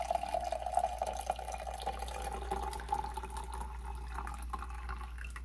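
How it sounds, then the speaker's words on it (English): Tea pours steadily into a teacup with a gentle trickling tone, continuous and close, over a low background hum. "pour it in our lovely teacup"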